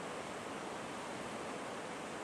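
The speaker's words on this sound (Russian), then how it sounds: "Видно, как там бурлит вода." Churning rapids on the Chara river in Siberia, a steady, dense roar of rushing water close by, continuous and loud without a break and no voices.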